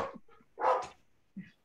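Short barks and yips from dogs at home, a few quick bursts with a brief whine between, fairly close and alone without talk.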